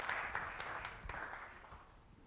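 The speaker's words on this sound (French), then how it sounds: "Merci de les applaudir." A studio audience claps for arriving guests from Empreinte Pro School, a scattered burst of fairly quiet hand claps that thins out and fades over a couple of seconds.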